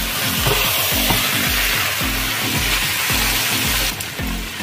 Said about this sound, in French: Je vais donc bien mélanger, et je vais laisser encore peut-être juste une minute mijoter